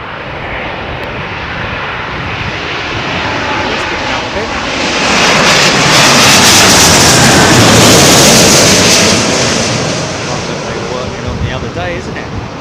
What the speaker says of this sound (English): Listen to this beautiful aeroplane.